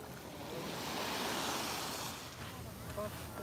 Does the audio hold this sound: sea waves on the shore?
yes